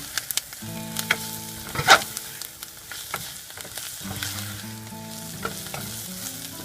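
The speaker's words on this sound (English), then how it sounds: "Now I will mix it." Chicken for Saudi kabsah is stirred in a frying pan, with scraping and clattering utensil strokes over a continuous sizzle, up close and loud, and faint tonal background music running beneath.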